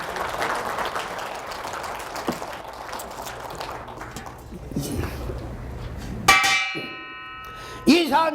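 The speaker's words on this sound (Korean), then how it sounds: "강사가 물 먹을 때 박수 한번 쳐주시는 매너." Lecture audience applause at a business association talk, a moderate patter under some talk, followed by sharp clanging hits and a ringing tone near the end.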